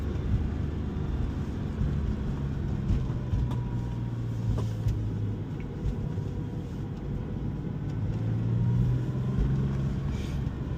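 A Porsche 996 drives along Mulholland Drive, its engine and road rumble forming a steady, close, unbroken drone with no talking.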